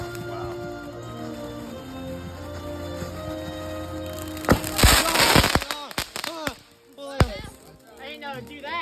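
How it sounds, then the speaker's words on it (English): Small consumer fireworks crackle and pop in a rapid burst of sharp bangs, loud and close, after a stretch of steady background hum, with people shouting and talking over them. "It's a mini fireworks show."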